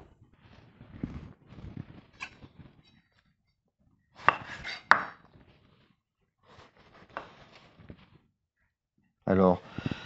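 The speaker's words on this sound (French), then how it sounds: "je vais couper en lamelles mes aubergines pour les faire dégorger dans du gros sel" Knife cutting aubergines into thin strips on a board, a few separate bursts of slicing and chopping with short pauses between them, close by, with a person talking in between.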